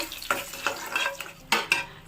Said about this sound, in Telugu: ఇవి కూడా కలర్ వచ్చేంత వరకు వేయించుకుందాము